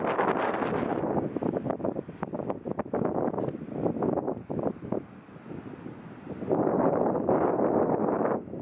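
Strong wind buffets the microphone in steady, roaring gusts, with a brief lull near the middle before the blustering returns at full force.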